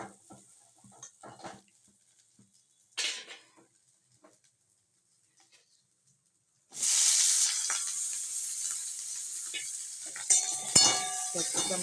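For a vegetarian capsicum and paneer curry, the first seconds are quiet, with a few soft kitchen clicks and scrapes. Then tomato paste hits frying capsicum in a pan and bursts into a loud, close sizzle, with a spatula stirring and scraping through the hiss.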